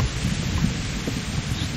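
Steady rain hiss with a low rumbling undertone of distant thunder in the video game Kingdom Come: Deliverance, continuous throughout with no voices.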